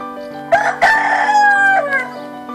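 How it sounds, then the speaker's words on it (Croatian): A single rooster crows loudly and close by, one long drawn-out cock-a-doodle-doo with no other sounds. "U radu ih je prekinulo kukurikanje prvog pijetla"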